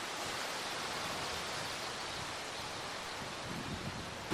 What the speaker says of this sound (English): in true cyclone fashion, the wind just keeps coming in gusts. So there it goes, blows him around